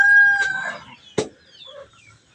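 Chickens on a farm, with a rooster crowing loudly at the start, then short clucks and a sharp peck-like knock, close by and without talk.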